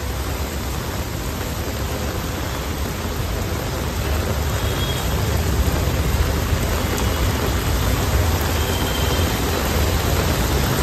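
Heavy monsoon rain falls in Belapur, Navi Mumbai, as a steady, dense, loud hiss that holds unbroken throughout with no voices.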